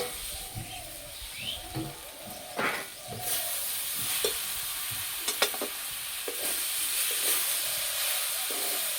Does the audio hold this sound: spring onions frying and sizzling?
yes